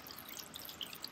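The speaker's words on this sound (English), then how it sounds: "I'm just going to pour some reverse osmosis water into the tray here." Reverse osmosis water poured into a tray holding Dendrobium discolor orchid seedling pots, a faint soft trickle with light scattered drips and no voices.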